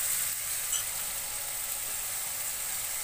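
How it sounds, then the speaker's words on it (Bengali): Marinated chicken hitting a hot pan for a homemade chicken curry, giving a steady, loud, bright sizzle that holds evenly throughout with no voices. "এবার আমি ম্যারিনেট করে রাখা চিকেনটা এর মধ্যে"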